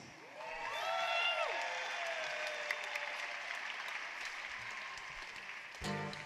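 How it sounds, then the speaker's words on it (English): A crowd at a fight night event applauds loudly, clapping swelling then tapering, with whistles and cheers rising over it. "A big round of applause for everybody that competed tonight"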